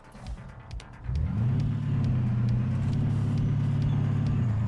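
A Caterpillar 3408 V8 diesel in a 1970s Peterbilt 359 truck catches after a stall on a hill, cranking and then settling into a loud, steady, low idle rumble close by.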